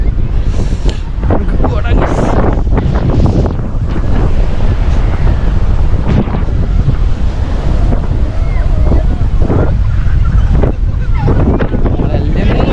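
Ocean waves roll onto Lemur Beach at Kanyakumari, a loud continuous surf wash mixed with strong wind that buffets the microphone in rough gusts.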